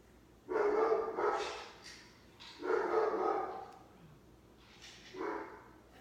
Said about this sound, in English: This dog. He's barking at nothing.